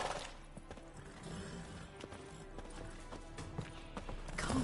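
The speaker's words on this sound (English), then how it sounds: "Gotta calm all the horses before they wake the guards." Horses in a video game clop and shuffle nearby in a steady, irregular patter of hooves, with occasional snorts over a low ambient background.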